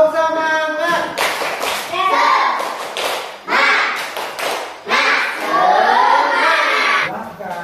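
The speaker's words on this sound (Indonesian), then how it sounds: "Siap, tepuk semangat." A primary school class of fourth graders performs a rhythmic group clap in bursts, children's voices chanting along between and over the claps.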